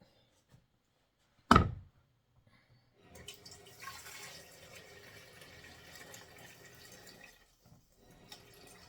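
Water is poured into a pan holding pork belly, a soft, steady splashing stream lasting several seconds after a single sharp knock, close and fairly quiet with no talking.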